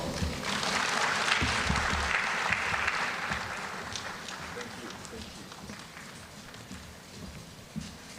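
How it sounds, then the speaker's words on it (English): Applause from a conference audience at an HR awards event, a dense, steady clapping that is loudest at the start and slowly thins and fades toward the end, with no speech over it. "Oh, please, another round of applause for him."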